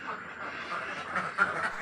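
Egg-laying farm ducks quack in a steady, overlapping chorus at moderate distance, forming a continuous backdrop with a slightly louder call near the end.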